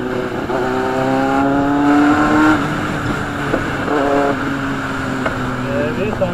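Superbikes such as a Kawasaki ZX-10R and Z800 rev their engines during an Independence Day group ride in Bangalore. The engines give a loud, rising and falling drone, with some voices mixed in.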